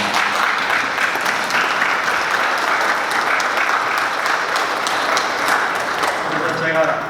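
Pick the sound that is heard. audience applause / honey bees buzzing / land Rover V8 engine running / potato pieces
audience applause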